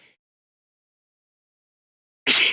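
A single loud, sharp human sneeze bursts out near the end after a long stretch of silence, close to the microphone.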